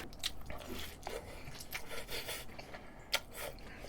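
Someone chews crispy boneless fried chicken thigh close to the microphone, producing a rapid series of crunchy bites and scraping crackles with no voice.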